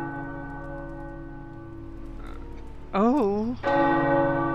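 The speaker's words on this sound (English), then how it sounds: "The tower bells are ringing." Tower bells ring out in the Midnight Suns video game, sustained tolling tones with rich overtones layered under the game's ambience, joined near the end by a brief vocal exclamation.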